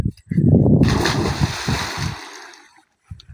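Someone jumps into the water with a loud, close splash, and the spray and slosh fade over about two seconds. A brief voice follows at the end.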